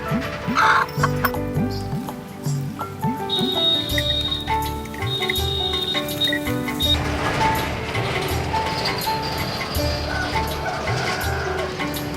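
Chickens cluck continuously nearby amid a busy, cluttered background, with occasional higher calls, including a rooster.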